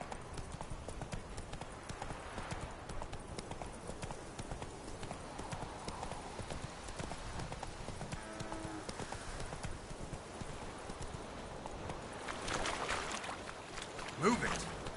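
Roach, a horse in The Witcher 3 game, gallops with rapid rhythmic hoofbeats that run steadily and fairly faint under ambient game sound, with voices speaking over it.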